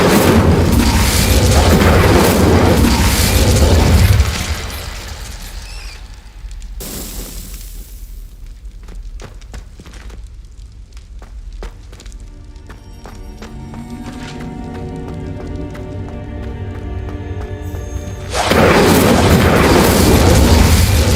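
An Incendio fire spell blasts braziers in the Hogwarts Legacy video game: a roaring, booming burst of flame opens and closes the stretch, with a quieter tonal, ringing passage in between, loud and near.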